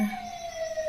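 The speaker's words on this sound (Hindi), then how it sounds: "बाहर ये जो सायरन की आवाज़ आ रही है" An emergency vehicle siren sounds outside in a village, a steady wailing tone holding level for a moment, moderately loud with no voices over it.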